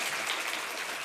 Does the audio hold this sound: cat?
no